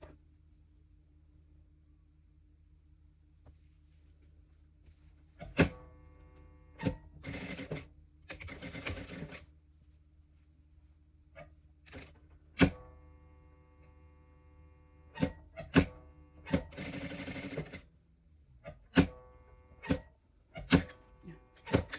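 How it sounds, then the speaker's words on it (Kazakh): A sewing machine stitches the seam of a handmade fox toy, running in several short bursts of rapid mechanical stitching separated by pauses, with occasional sharp clicks and a low background hum. "Былай айналдырып тігіп шығамыз."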